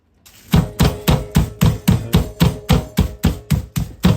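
Chicken breast being pounded flat for schnitzel, about fourteen evenly spaced loud thuds in a steady rhythm, close up with no talking.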